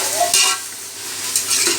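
Tomatoes and onions sautéing in a pan, salted to soften them for a bachelor-style biryani, giving a steady close sizzle with two bursts of scraping stirring.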